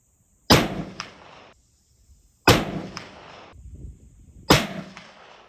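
Three sharp, loud muzzleloader shots fired with Firestar three-pellet powder charges, evenly spaced about two seconds apart, each a crisp crack followed by a short echoing tail and faint ringing.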